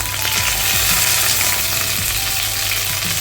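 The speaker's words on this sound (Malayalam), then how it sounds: "കടുക് പൊട്ടിക്കഴിയുമ്പോൾ നമ്മളിതിലോട്ട് കറിവേപ്പില" Mustard seeds crackle and pop in hot oil with curry leaves, a busy steady sizzle with sharp scattered snaps, loud and close throughout with no talking, as the tempering for uppumavu is prepared.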